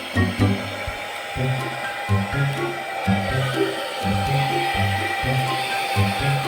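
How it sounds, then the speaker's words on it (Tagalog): A hair dryer style blower runs steadily to dry a name label on a plastic water gallon. The motor whirs close and loud, with a pulsing low rumble of knocks and handling underneath and no speech. "lagyan natin ng blower para madaling matuyo."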